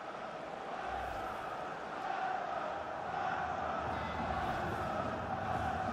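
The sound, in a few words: crowd cheering in a video game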